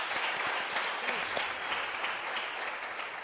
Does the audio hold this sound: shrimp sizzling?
no